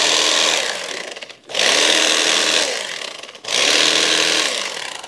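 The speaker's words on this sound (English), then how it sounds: "Electric carving knife. Right tool for the job." An electric carving knife buzzes through rock wool insulation in three long, loud bursts, each fading slightly before a brief pause. It is heard close up with no talking.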